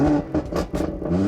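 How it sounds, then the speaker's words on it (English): A Stage 2 tuned BMW M140i engine revs up and down in quick, loud blips close by, the exhaust roaring and dropping back between each throttle stab. "you need to hear this exhaust. It's absolutely ridiculous."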